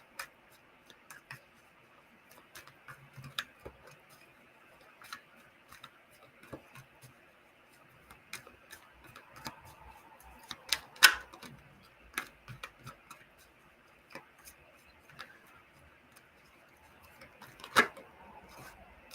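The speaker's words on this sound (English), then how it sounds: "let me shuffle these cards" Tarot cards being shuffled by hand in a quiet room, a sparse run of soft, dry clicks and riffles scattered irregularly, with a few sharper snaps standing out.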